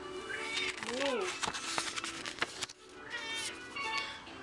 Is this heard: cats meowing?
yes